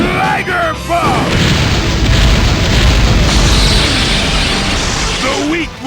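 Raikage's Liger Bomb attack in Naruto Shippuden: Ultimate Ninja Impact explodes in a loud, sustained booming rumble that fills several seconds, with brief voiced shouts at the start and end.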